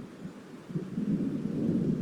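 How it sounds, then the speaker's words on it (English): Thunder from an approaching storm rolls through the video game Alan Wake as a low, distant, steady rumble that swells slightly louder toward the end, with no voices over it. "It seems there's a storm coming."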